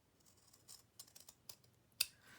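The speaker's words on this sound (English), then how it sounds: "I like using my pinking shears," Pinking shears make a series of quiet, crisp snips while trimming fabric seam allowance on a sewn face mask. The cuts come about every half second, ending in one sharper snip.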